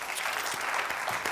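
A studio audience on a Georgian comedy game show bursts into steady, dense applause, many hands clapping together at close range without a break.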